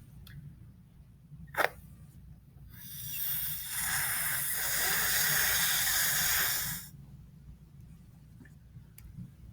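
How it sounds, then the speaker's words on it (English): A balloon is blown up by mouth in a lab setting: a single long, breathy hissing exhale of roughly four seconds, close and steady, with a faint click beforehand. "I'm gonna blow up this balloon now."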